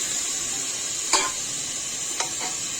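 Chicken pieces are tipped into a spiced masala and stirred in a pan: a steady frying hiss with two or three brief scraping stirs of the spoon against the pan.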